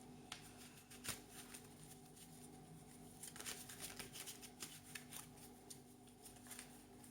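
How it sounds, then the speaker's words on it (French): Tarot cards are shuffled by hand, producing soft, quiet riffles and flutters in short uneven bursts with small taps between them. "J'ai vraiment du mal à mélanger ces cartes alors qu'elles sont super belles."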